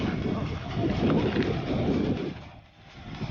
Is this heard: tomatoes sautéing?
no